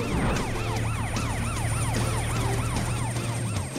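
Cartoon police patrol cars wail with overlapping, rapidly rising and falling sirens, loud and close, over a low engine hum throughout.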